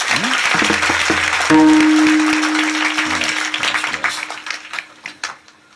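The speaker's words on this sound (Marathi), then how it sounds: "सर्वांना विनंती करतो या गुणीजनासाठी एकदा टाळ्या वाजवायच्या" An audience claps for the musicians at a Marathi devotional kirtan discourse, the applause loud and dense over a sustained musical tone and drum strokes, thinning into scattered claps toward the end.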